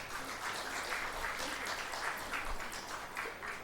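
An audience at an international research conference applauds panelists and judges, a steady wash of clapping from many hands that holds evenly throughout.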